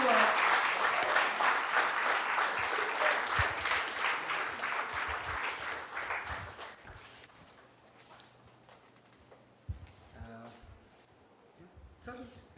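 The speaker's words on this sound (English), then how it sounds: "Please join with me in giving him a warm round of applause" An audience at a university hackathon event claps to welcome a speaker, a dense roar of applause for about six seconds that then thins and dies away into scattered claps and room noise.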